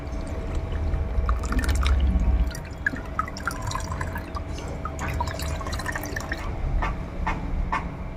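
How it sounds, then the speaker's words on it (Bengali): Soaked mahogany seeds strained through a cloth or sieve, with liquid dripping and trickling steadily into a container nearby, a fuller pour in the first two seconds then scattered small drips. "দুদিন বাদে ফিরে এসে আমি এটাকে ছেঁকে নেবো এই যে দেখ"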